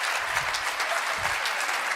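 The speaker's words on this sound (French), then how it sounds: "Vous devriez applaudir." A church congregation breaks into brief, full applause at a sermon, a dense and constant wash of clapping hands with no speech over it.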